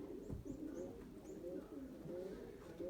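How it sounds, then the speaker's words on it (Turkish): A flying pigeon cooing in soft, repeated low calls, with a few brief higher chirps above, against steady outdoor background noise. "Uçan kuşu ötüyor arkadaşlar."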